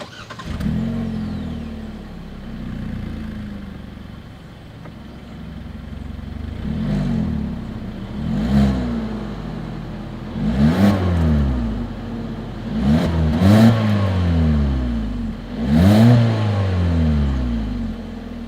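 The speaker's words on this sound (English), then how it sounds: "As always, here is that exhaust clip." A 2021 Hyundai Kona with a single exhaust outlet revs repeatedly, its engine note rising and falling in a series of sharp blips over a steady idle, loud and close with no talk.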